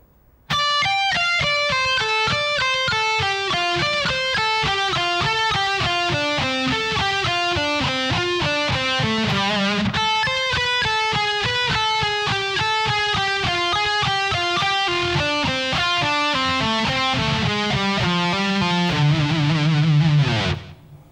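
A distorted electric guitar plays a lick slowly, a continuous run of clear, evenly spaced picked notes climbing and falling, heard alone and close for about twenty seconds.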